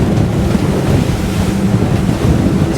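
A 2022 Fjord 38 Xpress motorboat runs at speed into choppy waves, a steady loud rush of hull slap, spray and wind buffeting close to the microphone throughout.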